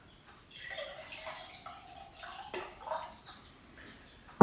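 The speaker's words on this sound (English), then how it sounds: "if I take some water and put it into my jar" Water poured from the kitchen into a glass mason jar, a faint, thin trickling and splashing lasting a few seconds, with a sharp knock at the very end.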